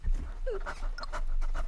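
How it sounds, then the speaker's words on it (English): Short bursts of dog panting from a Rhythm Heaven video game, quick and breathy over a low game backdrop. "That's a dog."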